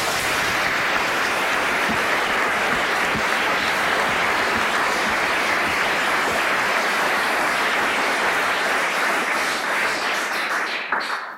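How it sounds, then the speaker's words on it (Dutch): Sustained applause from a large lecture audience thanking two speakers, a dense, even roar of clapping lasting throughout before thinning abruptly at the very end. "ik stel voor om beide heren te bedanken met een groot applaus"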